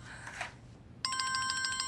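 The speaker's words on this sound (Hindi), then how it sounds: "जफर की कॉल है।" A telephone rings with an incoming call, its repeating electronic ring tone starting abruptly partway through and pulsing steadily and loudly, after a brief stretch of faint background noise.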